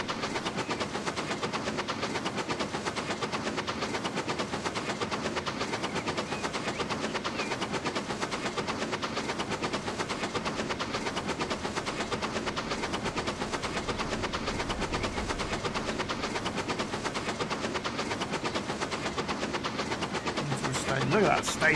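Train running in the Transport Fever 2 video game, a steady continuous rail rumble with a rhythmic clickety-clack of wheels over track joints, heard throughout at an even level, with a voice talking over it.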